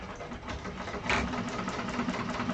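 A sewing machine stitches through a leather wallet in a close, steady mechanical chatter with a low motor hum, its rapid stitching pulses running without a break.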